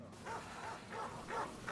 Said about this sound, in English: Hi, puppy.